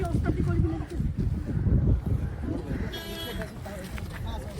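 Strong wind roars and buffets the microphone throughout at frozen Sela Lake, Sela Pass, 13,700 ft, a steady rough rush with a voice faintly underneath.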